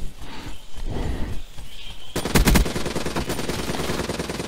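Rapid automatic gunfire from a Call of Duty Black Ops III match, a loud dense burst of shots that starts suddenly and keeps rattling on, with softer game noise before it.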